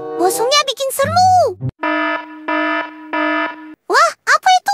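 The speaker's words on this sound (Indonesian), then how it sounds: "Aduh, alarm. Itu tanda bahaya." An alarm going off in the Sakura School Simulator game, sounding in three even, loud tonal blasts separated by short gaps, with a child-like voice speaking before and after.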